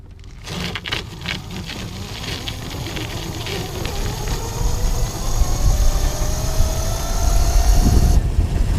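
Ridekick power trailer pushing a bicycle at full throttle: a motor engine hums and builds louder with rising whine and road rumble, steady drone growing toward the end with a brief dip near the close.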